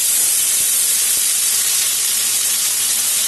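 A bay leaf and whole cumin seeds sizzle in hot oil for tadka, a loud, dense, continuous hiss of frying that stays even and close throughout.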